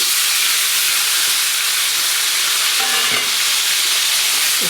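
Chopped tomato pieces fry in hot oil for a tomato-mint chutney, giving a loud, steady sizzle and hiss that runs unbroken throughout, with a few soft stirring scrapes near the end.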